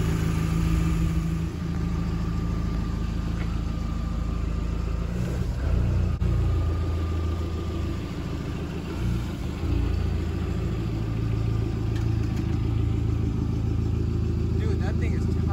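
An Audi B5 A4 engine runs with a slight misfire, a steady close low rumble at idle with uneven pulses throughout, while people talk over it.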